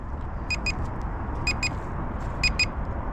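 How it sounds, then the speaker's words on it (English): A Deerc 2104 Challenger RC boat, which has no on/off switch, gives off short electronic beeps in three spaced pairs. They ring out clearly over a low steady hum, and no one speaks. "There's no on and off switch. You can hear it beeping."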